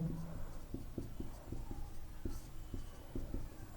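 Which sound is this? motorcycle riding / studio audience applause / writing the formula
writing the formula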